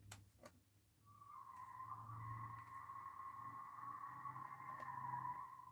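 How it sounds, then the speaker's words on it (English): A car's tires squeal outside in a long, steady, high-pitched screech that starts after a second and holds for several seconds, heard faintly at a distance over low background rumble. "Those cars are squeaking."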